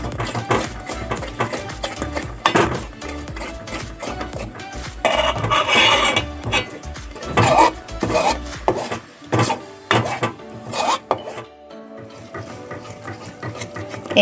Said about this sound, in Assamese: এয়া খুব ঘনাই লৰাই থাকিব লাগিব।